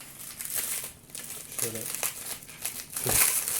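A plastic bag is crinkled and pulled open while unboxing an Asus Zen AIO keyboard, giving close, repeated rustling and crackling bursts mixed with people talking.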